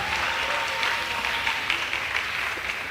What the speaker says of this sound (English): so let's keep on clapping